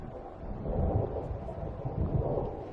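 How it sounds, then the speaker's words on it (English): Thunder from an approaching storm in the video game Alan Wake rolls as a deep, continuous rumble, fairly loud and close, with surging swells and a hissing wash like wind or rain over it. "It seems there's a storm coming."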